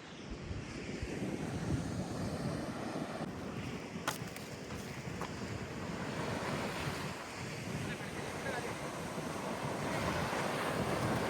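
Sea waves roar and crash steadily nearby on the shore by Kattil Mekkathil temple, mixed with gusty wind buffeting the microphone.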